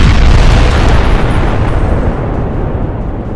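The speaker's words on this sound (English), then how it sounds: "it was a very well-timed explosion" A loud, deep explosion in the Fallout 3 video game fills the whole stretch with a heavy rumbling roar that slowly fades, alone without any talk.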